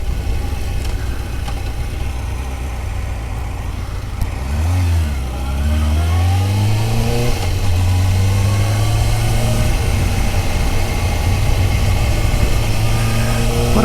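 Suzuki GSX-R600 SRAD inline-four motorcycle engine running loud and close, a steady drone that rises in pitch around the middle as the revs climb, then holds a higher, even tone, with no talking.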